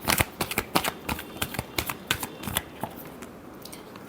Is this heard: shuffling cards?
yes